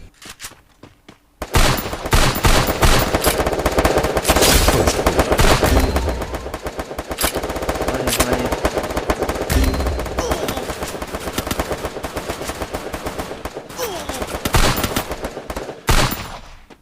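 Gunfire from the Free Fire mobile battle royale game, dense automatic bursts and rapid shots running loud almost without pause, with brief quieter gaps near the start and end.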